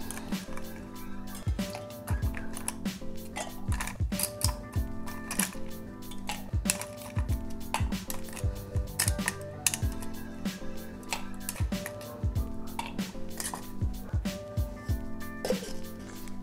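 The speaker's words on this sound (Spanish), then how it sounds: "Y le voy a incorporar el hielo." Ice cubes go into a cocktail shaker holding passion fruit juice and half an egg white for a maracuyá sour, making a dense run of sharp clinks and clatters over a steady low hum, with no talking.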